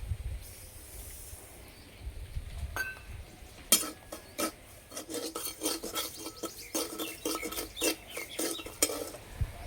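Dry semolina stirred and roasted in a kadai without oil, heard as rhythmic gritty scraping and rasping strokes of a utensil against the pan, growing busier after a quiet start.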